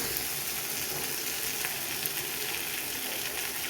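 Okra cooking in a pan sizzles steadily as a ground mustard, poppy seed and green chilli paste goes in, a soft, even frying hiss lasting a few seconds without any talking.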